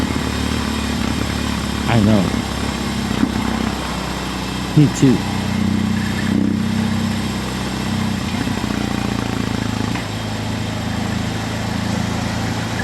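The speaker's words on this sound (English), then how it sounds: "Just listen to the engine sound, boys." A BMW R18 Roctane motorcycle runs steadily under way, with a low, continuous engine drone and throbbing boxer pulses, plus occasional louder rev swells. Brief speech is heard over the riding noise.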